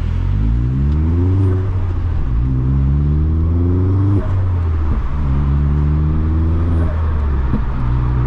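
A Vauxhall Astra VXR cruises on a wet road with a loud, steady engine drone rising and falling through the gears, broken by a few brief exhaust pops.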